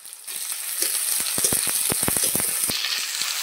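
Chopped onion frying in mustard oil, a steady, dense hiss of sizzling studded with rapid crackling pops, fairly close and with no voices.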